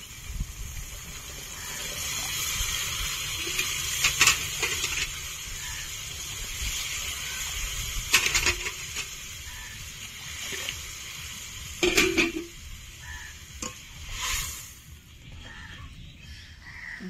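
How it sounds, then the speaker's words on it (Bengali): Water poured into spice paste frying in oil for a rohu fish curry, giving a steady hissing, bubbling sizzle with several sharper splashy bursts as it lands, close and moderately loud, no voices. "এখন জল দিয়ে দেব"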